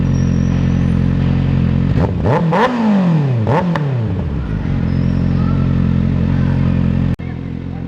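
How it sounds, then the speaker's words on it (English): A 2026 Kawasaki ZX6R with an M4 GP19 slip-on exhaust idles loudly up close, then gives two or three sharp rising and falling revs before settling back to a steady idle. "The kids noticed me and they wanted me to rev it hard, so let's do it for them."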